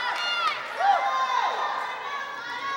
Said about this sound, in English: Sheboygan's now got this crowd into it.